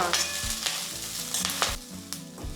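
Moringa leaves and chopped onion frying in a pan for a moringa leaf huli: a steady, close sizzle with repeated scraping stir strokes and a few sharper crackles, and no voices.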